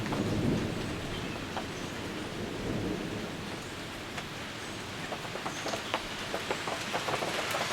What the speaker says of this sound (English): we got a massive like thunder and lightning jolt